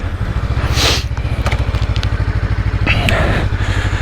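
Honda NX500 adventure motorcycle idling close by with a steady, rapid, pulsing thrum while the rider works the clutch, engine note swelling slightly as light clicks and rustles sound over it.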